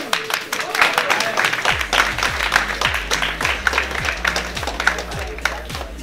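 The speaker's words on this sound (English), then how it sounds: "Please, a big round of applause to all of you." A crowd applauds with dense, steady clapping throughout, mixed with some voices and a low repeating hum underneath.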